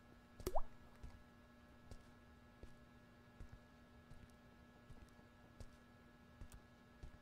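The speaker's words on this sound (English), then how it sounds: "Hear water dripping, or what I can only assume is water." Water dripping in The Backrooms Survival horror game, sparse quiet drops falling at irregular intervals over a faint steady hum, with one louder plop near the start.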